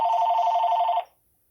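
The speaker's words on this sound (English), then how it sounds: "That was just a phone call." An incoming call rings on a telephone, a steady electronic bell-like trill sounding loud and close for about a second before it cuts off into silence, with no one talking.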